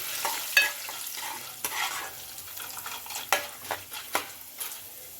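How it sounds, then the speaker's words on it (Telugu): Chana dal and peanuts fry in a pan with a low, steady sizzle, while a spoon stirs and scrapes against the metal in several distinct clicks. "శనగపప్పు వేస్తున్నాండి పల్లీలు వేస్తున్నాండి"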